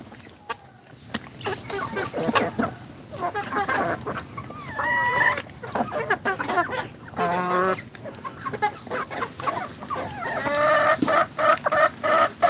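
Chickens cluck and squawk in irregular bursts on a Pakistani chicken farm, close by and fairly loud, with a longer crowing call in the middle.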